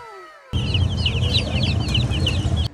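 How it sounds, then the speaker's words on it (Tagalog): A cluster of chicks and hens on a farm chirp and cluck busily, with overlapping high peeps over a low rustling background, fairly close. "bumili kami ng 100 pieces na mga manok."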